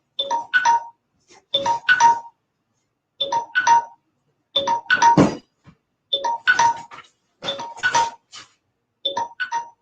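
A mobile phone rings with a repeating melodic chime pattern, bursts of bright tones separated by short gaps, loud and close with silence between phrases and no speech over it.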